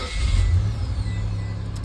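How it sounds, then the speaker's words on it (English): A car engine starting and settling into a loud, close, low rumbling idle, with no voices. "Love when my car starts."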